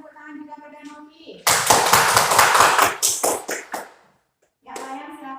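Students in a classroom clap for a classmate named Novi, a burst of close, crisp hand claps lasting about two and a half seconds, set between stretches of a voice speaking.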